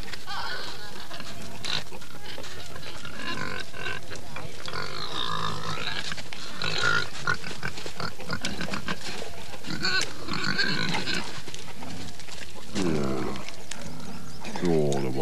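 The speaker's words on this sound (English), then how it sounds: "Like the other livestock penned in the village for the winter, the pigs are a key source of meat." Pigs grunt and snort in a village livestock pen, in irregular bursts of close, rough oinks with a low background of other farm-animal noise; a voice may be present underneath.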